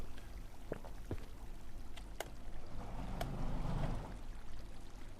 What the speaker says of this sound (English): You can actually drink some water here.